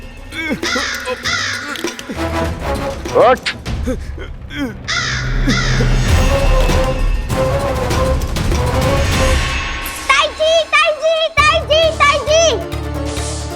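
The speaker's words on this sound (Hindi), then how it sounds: "कौवा" Repeated harsh crow caws, loud and close in quick bursts, mixed with children's voices and animated cartoon sound effects, with speech running through much of it.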